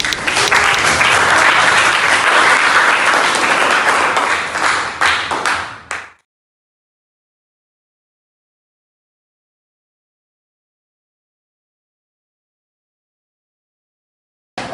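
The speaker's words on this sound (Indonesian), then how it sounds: "tepuk tangan untuk kita semua ya" A classroom group at a senior high school claps together in loud, dense applause for about six seconds before it tapers off into a scatter of last claps and then silence.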